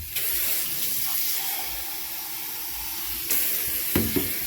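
Water runs steadily from a kitchen tap into a measuring cup, a continuous hissing splash with a brief burst of clatter near the end, with no talking.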